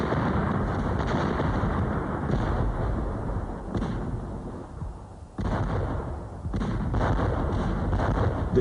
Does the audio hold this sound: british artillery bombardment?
yes